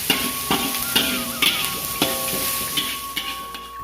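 Pork fat sizzling steadily in a hot pan for a Rumpu Rampe vegetable dish from NTT, with a rhythmic scrape of stirring about every half second over a constant bright hiss.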